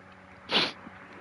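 A single sneeze, sharp and close, bursting out briefly in the middle of an otherwise quiet moment.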